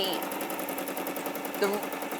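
A sewing machine stitches fabric with a fast, steady mechanical chatter. It runs continuously at moderate volume beneath people talking.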